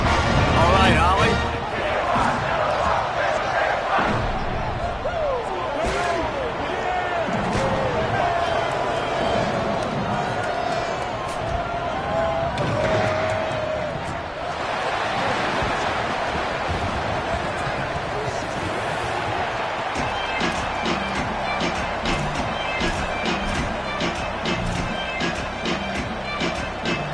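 A football stadium crowd makes a loud, continuous roar at the kickoff of a college game, with a broadcaster talking over it throughout.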